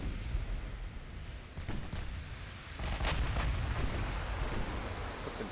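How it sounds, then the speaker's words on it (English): Six-inch naval guns fire during a battle in Ultimate Admiral Dreadnoughts, producing several booming shots and bursts over a steady rumbling background, some sharper reports standing out amid continuous low battle noise. "Our 6-inch guns are hitting them, though."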